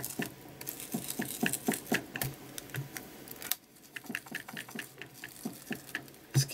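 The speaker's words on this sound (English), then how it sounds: "I have some little draw units that I've got handles on, little like drop handles. And they do tend to rattle a bit." Metal drop handles on a small set of drawer units rattle and tap in quick, irregular light clicks, soft and close, with a brief pause partway through.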